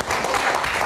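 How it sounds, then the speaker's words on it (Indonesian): Audience applause for a guest on a live Indonesian talk show, a steady wash of clapping from a studio crowd that fills the whole brief moment at an even level. "Kita berikan tepuk tangan sekali lagi untuk Bang David Tobing."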